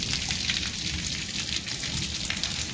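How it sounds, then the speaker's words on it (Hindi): Heavy, continuous rain pours down outdoors on a dark afternoon, a loud, steady broadband hiss with no breaks and no voices. "ये देखो कितनी तेज बारिश लगी हुई है"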